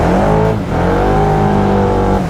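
A Can-Am off-road vehicle's engine drones loud and steady, close by, with a brief dip before it rises again while the tires spin during a slow crawl.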